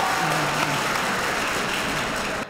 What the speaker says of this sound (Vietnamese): Chúng ta hãy dành một tràng pháo tay thật lớn để cổ vũ cho bạn Thanh Hiệp được không ạ?